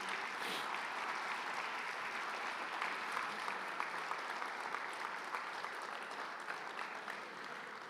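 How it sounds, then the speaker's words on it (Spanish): A church congregation applauds loudly and steadily, a dense continuous wash of clapping heard from within the crowd, sustained for several seconds without pause. "dale un fuerte aplauso al Señor Jesús"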